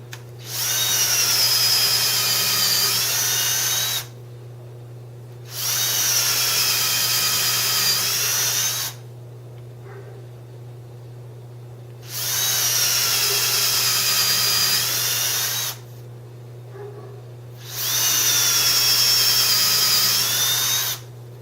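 A power drill with a twist bit bores into a wooden board in four separate bursts, each a few seconds of loud, steady whine, with quiet gaps between them.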